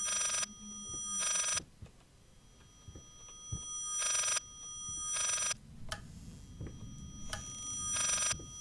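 Telephone ringing inside the horror video game Layers of Fear, sounding as repeated bright ring bursts in an irregular pattern over a low eerie ambient rumble, fairly loud and close, with no talking.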